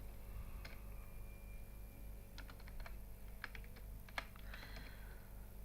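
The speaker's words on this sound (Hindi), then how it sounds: "अब डेट इंटर करनी है, तो इसके लिए हम डेट टाइप कर देते हैं यहाँ पे।" Soft, sparse clicks of typing on a computer keyboard while entering dates into a hotel business management spreadsheet, a few scattered keystrokes and a short burst of taps over a low steady hum.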